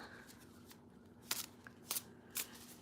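Tarot cards are shuffled quietly by hand, with a soft, steady riffle and several crisp slaps as cards settle, close and faint with no talk.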